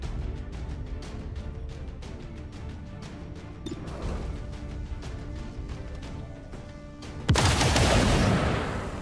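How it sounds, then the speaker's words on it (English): Rapid, heavy gunfire from a tactical squad hammering an armored alien Gatekeeper in XCOM 2, a dense run of repeated shots with a louder crashing burst near the end, no talking. "Now we just need to shoot it until it explodes."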